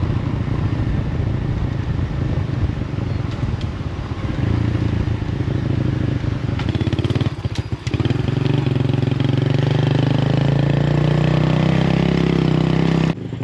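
A loud motorcycle engine idling steadily up close, with a brief revving burst partway through before it settles back to a rumbling idle.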